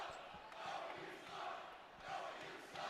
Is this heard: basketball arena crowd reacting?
yes